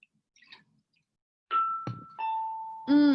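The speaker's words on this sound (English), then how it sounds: "The bell's actually ringing here." An electronic doorbell-style chime rings in a classroom, sounding as a few clear tonal dings with a sustained ringing tone and a final loud strike, fairly close.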